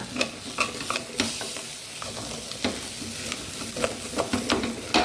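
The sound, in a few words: stirring turmeric into frying pan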